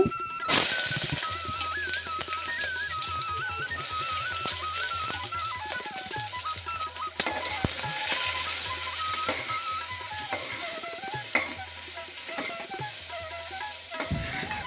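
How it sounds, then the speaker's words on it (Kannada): Onions frying in oil with mustard seeds, cumin, curry leaves and a little turmeric, a steady soft sizzle throughout with occasional stirring clatter, while a continuous tonal background sound runs beneath. "ಈರುಳ್ಳಿನೂ ಸಹ ಹಾಕ್ಕೊಂಡು ಚೆನ್ನಾಗಿ ಫ್ರೈ ಮಾಡ್ಕೊತಾ ಇದ್ದೀನಿ"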